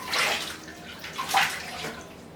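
Water splashing as a face is rinsed at a sink, two brief bursts of sloshing and dripping, close and moderately loud with no talking.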